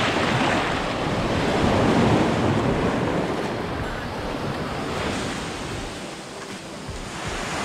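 Ocean surf washes loudly onto a beach at high tide in Krabi, Thailand, a dense roaring rush with wind buffeting the microphone, swelling and easing slightly as waves break nearby.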